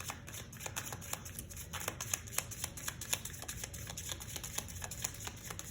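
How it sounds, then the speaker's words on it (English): A deck of cards for a sheep-and-wolf tabletop game being shuffled close by, with rapid crisp riffling clicks in a steady, continuous burst and no voices. "now just shuffle this up"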